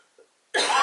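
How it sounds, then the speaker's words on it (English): A single tickly cough bursts out abruptly and loud near the end, after a brief faint sound and near silence. "I've got such a tickly cough"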